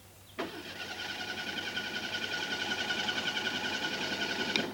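A car that won't run right cranking and straining, a harsh buzzing engine note that kicks in abruptly and holds steady for several seconds, close and fairly loud, alone.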